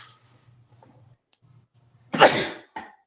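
A single loud, close sneeze bursts out after a quiet stretch of faint low hum during a live racing chat stream, followed by a brief short exhale.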